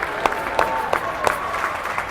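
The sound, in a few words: parents applauding hockey finalists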